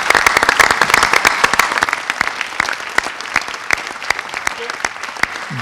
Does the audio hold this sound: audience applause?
yes